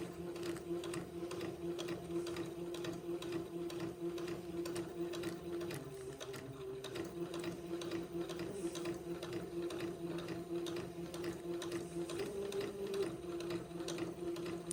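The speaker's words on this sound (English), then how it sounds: "going to first sew a pin tuck on this line that I drew with my friction erasable pin" Twin needles on a sewing machine stitch a pin tuck along a drawn line, a steady, even motor hum with rapid needle clatter running nonstop and close throughout.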